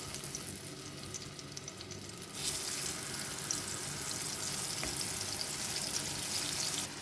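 Coconut oil frying in a pan while a yogurt curry is made, a steady close hiss that jumps louder partway through and then holds as a continuous sizzle, with no talk.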